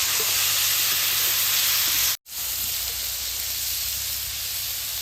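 Ivy gourd tipped into a wok of frying onions and chili sets off a loud, steady sizzle and hiss that fills the clip, cut by a brief silent gap before the sizzling resumes.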